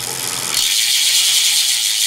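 A bicycle drivetrain with an Absolute Black Hollowcage oversized pulley wheel system spins with a smooth, quiet whirring hiss, steady and close, after a brief lower rumble at the start.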